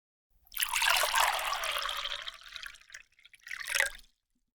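Water runs from an ancient water clock as a steady trickle of about three seconds, then a brief second splash; it is close and fairly soft, with no voices.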